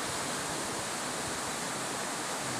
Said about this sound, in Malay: Pesona alam air terjun Bukit Sirih.